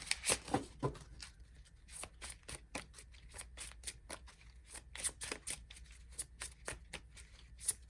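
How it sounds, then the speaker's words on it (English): Tarot cards are shuffled by hand in a rapid series of crisp riffling and slapping bursts, close and clear, with no talking. "All right, I'll shuffle you a little bit."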